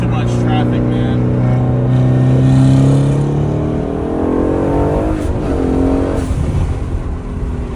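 An Aston Martin Vantage M177 fitted with Spool big turbos accelerates hard in third gear, its engine note climbing steadily and loud, then easing off as traffic interrupts the pull.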